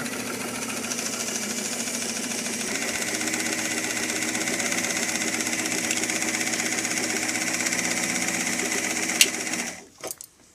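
A sewing machine stitches a dress casing in a steady, continuous run, loud and close, then stops abruptly near the end with a couple of short clicks.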